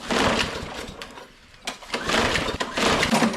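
A small engine cranks in uneven bursts after a dose of starting fluid, sputtering and catching briefly with rough, irregular pulses close by and no talk.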